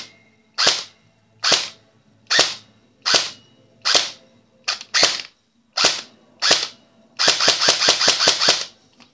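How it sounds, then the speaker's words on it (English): An upgraded KWA airsoft gun fires loud, crisp single shots at about one per second, then a quick full-auto burst of about eight rounds near the end, with nothing else audible between them. "I never fired it for you or turned the gearbox over, so have a listen."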